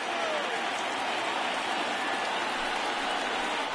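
A stadium crowd of over 39,000 in MLB The Show 19 cheers on its feet with two strikes during a Yankees–Royals game, a steady roaring wash of noise ending in a sharp, brief crack.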